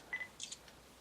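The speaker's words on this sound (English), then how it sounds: "press the shutter" Faint electronic beeps followed by a soft double shutter click from a digital camera set to a sunset scene mode with flash off, brief and quiet.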